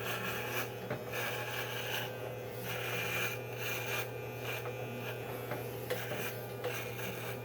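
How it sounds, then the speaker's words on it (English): Electric trimmer buzzing steadily at close range as it trims a beard, a faint hum with repeated rasping passes. "And this is how I trim my beard."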